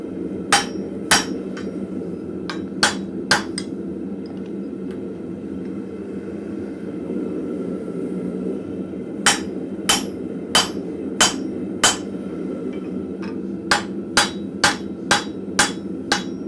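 A blacksmith's hammer strikes metal in a forge, sharp metallic blows ringing out in quick bursts over a steady low rumble, with a long pause between two clusters of strikes.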